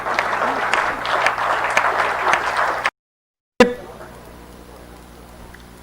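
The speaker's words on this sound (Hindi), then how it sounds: "माननीय नड्डा जी का जोरदार तालियों के साथ स्वागत करें" Crowd at a BJP political rally in Madhya Pradesh applauds to welcome J.P. Nadda, a dense, steady wash of clapping that cuts out abruptly midway, leaving only faint background noise.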